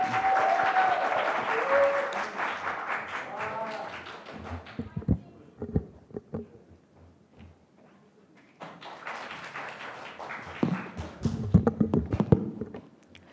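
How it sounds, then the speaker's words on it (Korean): Audience applause in a hall greeting a student about to give a speech, a broad wash of clapping that thins into scattered claps and taps, then swells again with louder sharp claps, with talk heard at the start. "윤강혁 학생의 연설을 박수로 들어보겠습니다."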